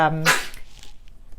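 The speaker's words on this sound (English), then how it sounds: "That's my dog." A dog gives a single sharp, close bark. Faint background noise and a few soft thumps follow while the animals play.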